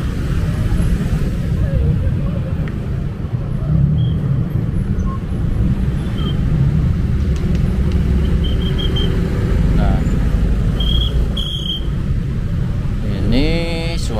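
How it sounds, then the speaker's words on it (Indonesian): Congested road traffic on Jalan Jenderal Sudirman in Bandung, heading toward Lembang, gives a steady, loud engine rumble throughout, with a couple of brief horn-like tones near the end and voices talking over it. "seperti inilah kemacetan di kawasan Jalan Jenderal Sudirman ya"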